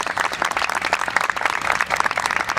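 Applause for a city administrator at a Juneteenth celebration, a short burst of steady crowd clapping with no pauses.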